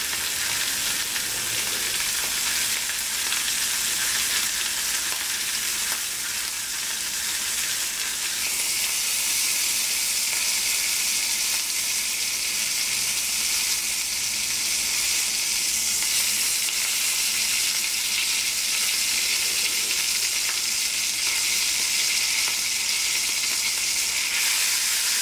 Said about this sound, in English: Now we'll cook off that fat cap on the end there.